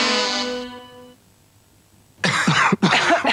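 Dry coughing in a 1993 French TF1 television advertisement: a short harmonic vocal sound fades away, then after a pause come two loud, close, harsh coughs in quick succession.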